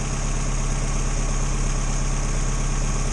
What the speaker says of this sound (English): That's really sturdy engine, isn't it? It's not all over the place